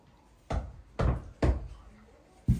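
Four sharp, loud knocks on a door, spaced roughly half a second apart with a short pause before the last, each a hard thud with a quick decay in a quiet room.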